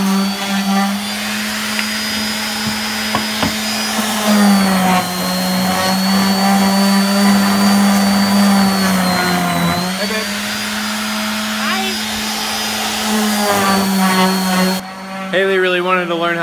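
Power sander running steadily on wooden shelf pieces, a loud continuous whine with a strong low hum, slight pitch dips as pressure changes, close and sustained throughout with no talk.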